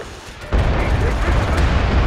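Artillery shells strike in the military shooter game MAG, a sudden loud booming barrage that hits abruptly and keeps rumbling and crackling heavily throughout.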